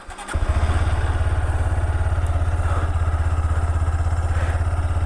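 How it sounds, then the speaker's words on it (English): A Honda NX200 motorcycle engine catches after a brief starter crank and settles into a steady, close, thumping idle with a rapid regular exhaust pulse and light mechanical clatter. "let me just turn on the motorcycle"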